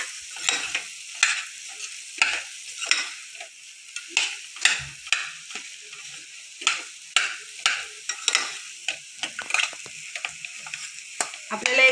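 Chopped, broken-up potatoes being stirred in a pan for samosa filling, rhythmic spoon scrapes and knocks against the pan at roughly half-second intervals over a faint sizzle.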